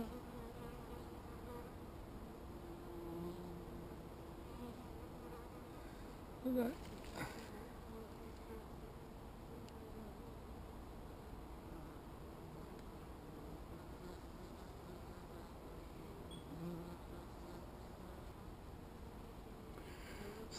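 Newly arrived bees buzzing around hives set on benches in a wood, a faint continuous drone with a brief louder knock partway through.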